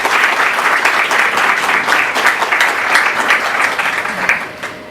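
Audience applause at a round table event on educational technology in the Dominican Republic, sustained lively clapping from a roomful of people that holds strong and then starts to thin out at the end.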